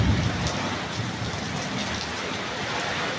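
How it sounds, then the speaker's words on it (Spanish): Heavy rain pours steadily on a hot day, a dense, even hiss of drops drumming on surfaces, fairly close and unbroken, with no voices over it. "Ahí está la lluvia, oye."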